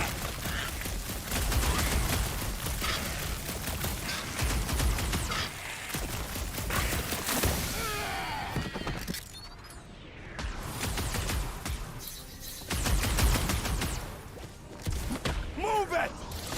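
Gunfire and mechanical clatter in a Guardians of the Galaxy video game battle, dense and continuous across the scene with characters shouting over the shots and music.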